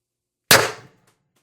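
A single sharp report from a Beeman air rifle running 1100 psi HPA and firing an 8.3 gram steel ball bearing, sounding as one loud, close crack that decays quickly into silence.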